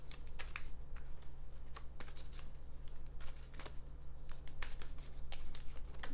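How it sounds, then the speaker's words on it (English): A large, bulky tarot deck being shuffled by hand, giving repeated crisp riffling and slapping card bursts over a low steady hum, close and fairly quiet, with no talking. "this deck is so big and bulky, it's so hard to shuffle"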